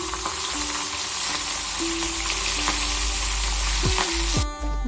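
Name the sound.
fish frying in a wok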